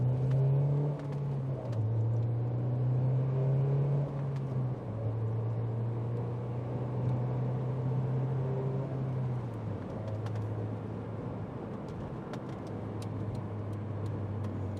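A Honda S2000 pulls away through first and second gear, a steady engine drone that drops in pitch at each shift, heard from inside the car with no voices.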